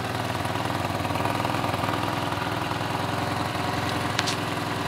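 A Ford Escort Hobby with a CHT 1.0 engine and Weber 460 carburetor idles steadily, a loud, close, even mechanical drone that holds constant throughout, with one faint click near the end.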